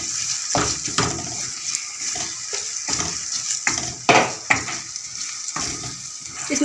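Boiled mash dal being stirred and fried with masala in a pan, a wet bubbling sizzle with repeated scraping and clattering strokes of a spoon against the pan, close and steady, without speech.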